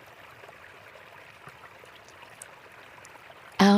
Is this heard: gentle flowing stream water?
yes